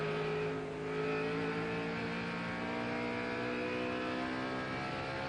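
Ron Hornaday's race truck engine at the 1997 NAPA AutoCare 200, held on the throttle in a steady, sustained high drone with strong harmonics and little variation, heard from on board.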